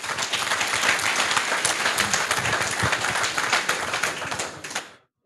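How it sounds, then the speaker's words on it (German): Audience applause at the closing presentations of Jugend hackt Köln 2018, a dense, loud, continuous patter of many hands that carries on for several seconds and then stops abruptly. "Ja, dafür nochmal einen Applaus."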